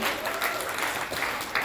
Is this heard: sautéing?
no